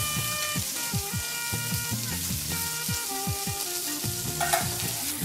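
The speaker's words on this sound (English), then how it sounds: "to be able to get a very good sear, I'm going to sear each side about 2 minutes per side" Two tilapia fillets sear in a hot pan, producing a continuous sizzle under prominent tonal background music, with a few soft knocks and no speech.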